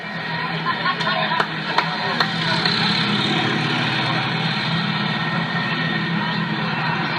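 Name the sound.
four-propeller airplane taking off at an air show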